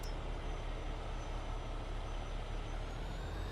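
A truck in the Farming Simulator video game idles and rumbles steadily, a constant low engine drone with no talk.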